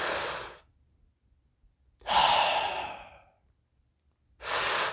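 Breathwork demonstration of disconnected breathing: a long, loud exhale, then a gap of silence, then a sharp inhale that trails off, another silent pause and a further breath, each sound clear and alone.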